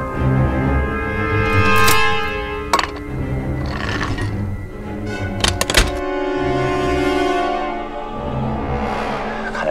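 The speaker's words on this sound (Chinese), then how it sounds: "准备开炮。" Cannon fire in a Chinese anti-Japanese war film set in jungle fighting against Japanese troops: a few heavy booming thuds punch through a sustained, swelling orchestral score, with no talk.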